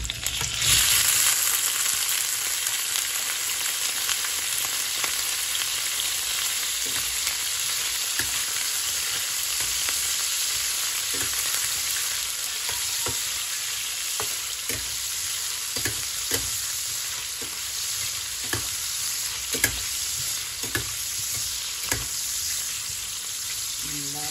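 Pure Foods hotdogs fry in a little oil, giving a steady, close sizzle that runs throughout with occasional pops and crackles and no voices.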